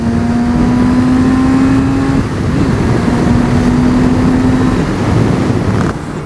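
A Kawasaki Z900 RS motorcycle accelerates on the road with a loud, rising engine drone that climbs through two gear pulls, heard from the rider's position under heavy wind rush.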